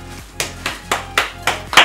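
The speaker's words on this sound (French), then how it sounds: "On l'applaudit déjà, merci." Five or six sharp, evenly spaced hand claps from a small group, close and distinct with short gaps between them.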